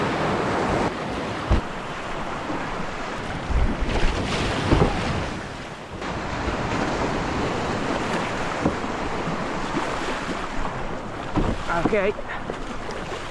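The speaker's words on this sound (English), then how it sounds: "Wow, this kayak is a lot faster than what I'm used to." A fishing kayak pushes through ocean waves on its first outing, with steady wash, splashing water and wind buffeting the microphone throughout, and a brief spoken word near the start.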